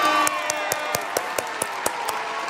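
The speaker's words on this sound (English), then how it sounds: "A round of applause." Audience clapping and cheering at a Dota 2 esports event, a steady dense roar of applause with sharp individual claps standing out at a regular beat throughout.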